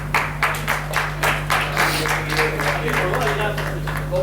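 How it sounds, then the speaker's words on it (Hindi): A few people clap in rhythm at a spiritual study session in Badrinath, distinct regular claps in a steady beat over a constant electrical hum, with voices faintly in the background. "गोपाल भाई, हिम्मत भाई और हिमांशु भाई ने तालियां बजाई"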